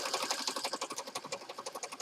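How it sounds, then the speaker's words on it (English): A sewing machine stitches a zigzag close by, its needle chattering in a fast, steady mechanical rhythm under a constant motor hum, with no voices. "The gas pedal for the sewing machine."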